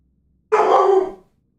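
A single loud, close dog bark breaks a near-silent background, one sharp sustained yelp lasting under a second before fading out.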